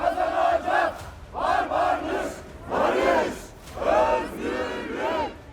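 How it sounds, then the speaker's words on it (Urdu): Thousands of protesters in a street rally against America chant slogans in loud, rhythmic bursts of massed voices, with about four surging phrases separated by brief dips. "امریکہ کے خلاف شدید نعرے بازی کی۔"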